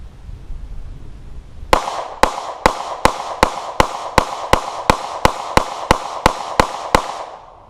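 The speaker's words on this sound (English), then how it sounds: "We'll do the same with the FDE Glock. Using an OEM magazine this time. Rapid fire." Rapid fire from an FDE Glock 19 Gen 3 pistol loaded with an OEM magazine: fifteen sharp, loud cracks in a quick, even rhythm after a brief quiet start, each shot ringing briefly.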